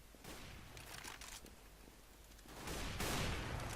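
Gunfire from a Counter-Strike: Global Offensive match plays as a quick burst of shots. It sounds faint under steady game ambience and swells louder toward the end, and no one speaks.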